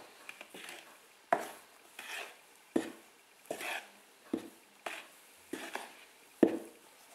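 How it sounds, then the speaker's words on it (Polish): A spatula folds flour into egg foam for a blue Snow Queen sponge cake, making a series of soft, regular scraping thuds against the bowl about every second, close and fairly quiet. "I już tylko delikatnie mieszamy łopatką."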